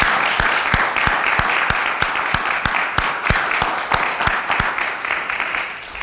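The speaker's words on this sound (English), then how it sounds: "How about a round of applause for Stacy?" A round of applause at a school committee meeting, a small group clapping steadily with sharp distinct claps close by, filling the whole stretch at even loudness.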